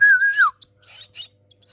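Rescued silky starling and myna chicks give a long sliding whistle followed by short bursts of high chirping calls, close and clear against a quiet background.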